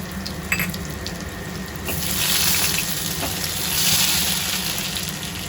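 Crushed garlic dropped into already hot oil in a home kitchen, a steady broad sizzle swelling after a couple of seconds and holding loud and close, with faint kitchen clatter early on and no talk.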